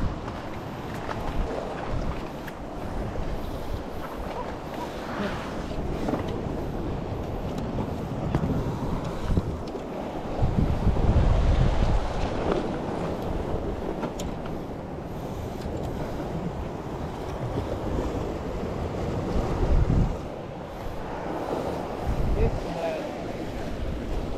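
Wind and waves at sea off Bunta Island, Aceh, with steady rushing wind buffeting the microphone and the broad wash of water around a small boat, continuous and fairly loud throughout.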